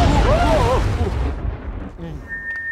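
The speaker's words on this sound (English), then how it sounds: "Now it is going to explode." A booming explosion bursts from a fused food dish in a Muppets kitchen food fight, loud at first and then rumbling away, with voices talking over it.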